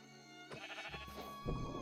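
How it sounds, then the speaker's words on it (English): A black sheep in Minecraft bleats twice in quick succession, close and clear over quiet game background music. "And this one's a black sheep."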